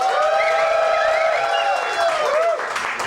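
A live audience at a Genius Night show erupts in loud, continuous cheering and clapping, layered yells and whoops sustained for a few seconds before easing slightly.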